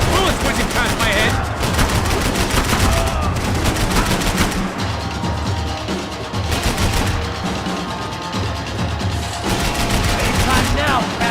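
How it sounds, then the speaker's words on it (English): Heavy gunfire in Max Payne 3 fills a firefight, with continuous bursts of automatic shots and bullets whizzing past, loud and close, plus occasional booms and no letup throughout. "I can't concentrate with bullets whizzing past my head!"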